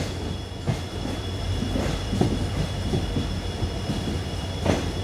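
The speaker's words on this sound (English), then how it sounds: "This is a long train." A long passenger train of about 22 coaches on the Mangaluru–Bengaluru line, giving a steady rumble of rail noise with scattered clanks and faint squeals near the track, no voices.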